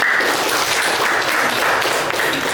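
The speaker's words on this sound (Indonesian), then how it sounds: "Tepuk tangan semuanya." A classroom of students claps together in a dense, steady burst of applause that fills the room at close range and holds evenly for a few seconds.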